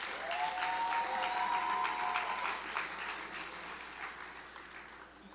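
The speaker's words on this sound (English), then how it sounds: "Let us give another round of applause for our valedictorian," An audience at a secondary school graduation ceremony gives the valedictorian a sustained round of clapping that starts full and gradually thins out, with no voices over it.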